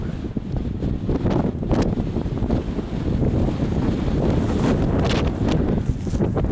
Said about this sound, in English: As you can tell, the wind is crazy.